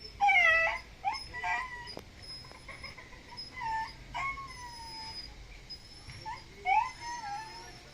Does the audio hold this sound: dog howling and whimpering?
yes